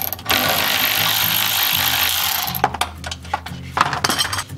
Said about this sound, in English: Gotta get a wrench on the top.